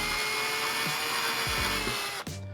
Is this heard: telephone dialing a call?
no